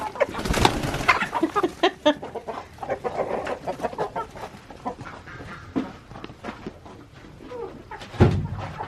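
Broody hens in a backyard coop cluck and murmur throughout, with close, irregular bursts of clucking and a louder squawk near the end.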